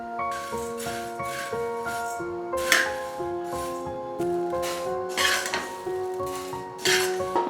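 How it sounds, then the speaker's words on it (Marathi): Puffed rice roasts in a wok while a spatula stirs it, giving soft, dry rustling scrapes that come in a few louder bursts under steady background music. "सर्वात आधी कढईमध्ये मुरमुरे हलके भाजून घेतले"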